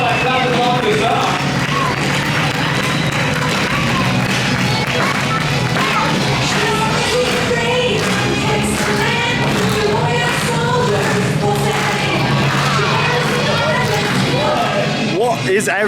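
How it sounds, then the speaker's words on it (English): An audience at a LEGOLAND Florida show claps along to a song: steady rhythmic clapping blends with loud music and crowd noise throughout, without pause. "I bet you can cheer them on by clapping along with this song."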